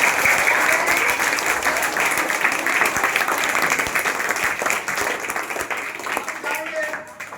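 Loud, sustained applause from a school audience at an event in a village school in Motipur, steady dense clapping for the full clip with some voices mixed in, fading slightly toward the end.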